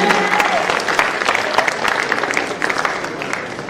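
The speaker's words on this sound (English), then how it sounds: "A clap for Ian." Loud audience applause rings out at an African film awards ceremony, a dense burst of clapping that stays steady for several seconds before tapering slightly.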